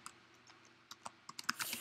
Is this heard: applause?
no